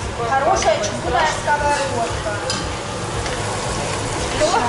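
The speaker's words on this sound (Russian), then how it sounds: "А смотрите, у нас еще лучок жарится." Onions frying in a cast-iron skillet give a steady close sizzle and crackle with occasional stirring, while someone talks over it throughout.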